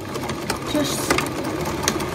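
A sewing machine stitches a bodice lining for a cosplay costume, giving a steady, busy mechanical whir that runs through the whole short stretch at moderate loudness with no clear pauses.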